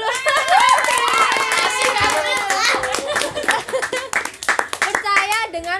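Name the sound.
audience clapping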